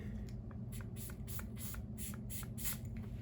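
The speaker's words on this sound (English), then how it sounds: "I'm gonna put some more spray down" Hair spray hisses in a series of short bursts onto the edges of a wig, about seven quick sprays in a steady rhythm over a low background hum, close and fairly quiet.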